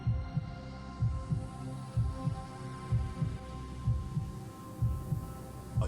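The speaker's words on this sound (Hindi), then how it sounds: "केवल उनकी धड़कनें गूंज रही थी।" A slow, deep heartbeat thuds in a steady double-pulse rhythm over a low droning hum, heavy and close, repeating without pause in a horror story scene.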